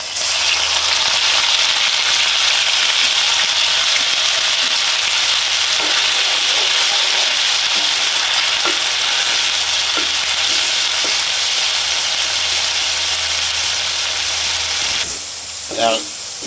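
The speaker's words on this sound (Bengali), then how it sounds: "তেল দিচ্ছি পেঁয়াজ বাটা রসুন বাটা আদা বাটা দিয়ে দিচ্ছি" Onion, garlic and ginger paste fry in hot oil in a kadai, a steady loud sizzle and hiss filling the whole stretch, with a few scraping stirs and a brief louder clatter near the end; faint speech is present in the background.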